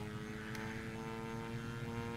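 A B-25 Mitchell bomber's engine at full throttle in an RC flight simulator game gives a steady, droning roar with a constant pitch that holds unbroken and fairly close throughout.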